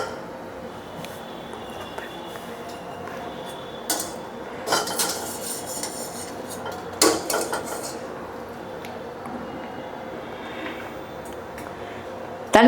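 Boiled elephant foot yam is drained in a kitchen, with scattered metallic clinks and clatters of pots and pans over a low background, several sharper knocks standing out.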